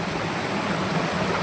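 Water pours and rushes at a waterfall at the foot of the Melagiri hills, a dense, steady roar close by, heard alone.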